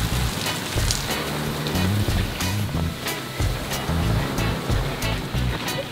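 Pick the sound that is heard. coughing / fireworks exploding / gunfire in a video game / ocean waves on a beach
ocean waves on a beach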